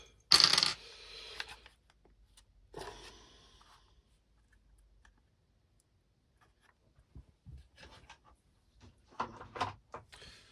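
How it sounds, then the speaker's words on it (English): Two screws come off a Stihl BR600 backpack blower during teardown, heard as a sharp metallic clatter at the start, then scattered quiet clicks, scrapes and small handling noises, close up with long silent gaps. "Let's take these 2 screws off so we don't lose those."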